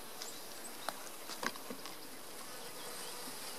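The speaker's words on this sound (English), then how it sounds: "they're sending out the guard bees" Guard bees pour out of a beehive with a close, steady buzzing hum, broken by a few brief louder passes and ticks as individual bees fly near.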